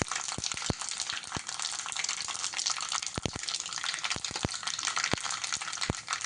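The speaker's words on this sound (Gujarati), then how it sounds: "એકદમ રાઈ તતડી જાય પછી આપણે એમાં હિંગનો વઘાર કરશું." Rapid, irregular crackling and popping of mustard seeds spluttering in hot oil over a steady sizzle, close and fairly loud, with no voices, while tempering for a cauliflower and pea curry.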